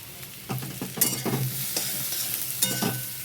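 Ground spices including coriander powder fry in a pan under repeated stirring, with a continuous close sizzle and rhythmic scraping strokes of the spoon against the metal, no voices.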